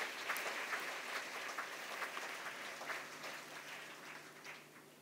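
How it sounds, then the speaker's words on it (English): Audience applause at the Barbara-Prammer-Symposium for speakers Linda Erker and Ayşe Dursun, a soft, steady patter of many hands that fades gently toward the end, with a faint low hum beneath. "I'd like to ask for a big round of applause for Linda Erker and Ayşe Dursun"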